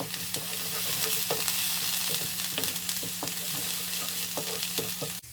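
Garlic ginger paste fries and sizzles with spices in a pan for white egg korma, a steady close crackle with repeated stirring scrapes throughout, no talking.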